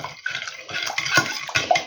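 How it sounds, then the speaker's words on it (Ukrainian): Hot water, about 200 ml, poured into jelly mix in a bowl and stirred, giving a close, steady splashing pour with brief scraping stir strokes. "200 мл отут гарячої води. Заливаю сюди у желе, розмішую."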